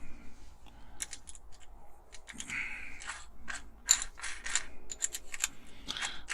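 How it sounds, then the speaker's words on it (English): Cordless drill chuck being tightened on a 6.5 mm drill bit, a series of close, sharp ratcheting clicks in irregular bursts, with no talking. "let's get our drill bit in"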